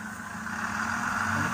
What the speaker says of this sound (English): that noise in the background is a bus coming in